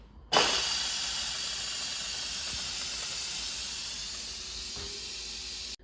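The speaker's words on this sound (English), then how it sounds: "Now the Instant Pot is done cooking, so let's quick release the steam." A loud, steady hiss of steam rushing from an Instant Pot during quick pressure release after cooking dry black beans, starting abruptly and holding constant without pause.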